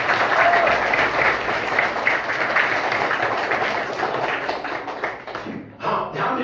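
Applause for two schoolchildren, Roshni and Divyanshu, at a village primary school: a group's dense, steady clapping runs for several seconds and thins out near the end.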